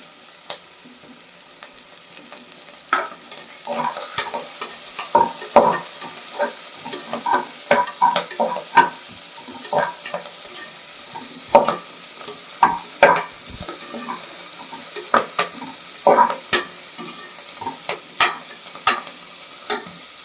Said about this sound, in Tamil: இப்போ கருவேப்பிலை போடுவோம்.